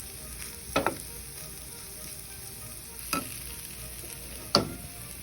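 Cooked rice stirred into a raw mango mixture in a pan, three distinct scraping strokes of a spoon spaced apart over a quiet background hiss, close and fairly soft.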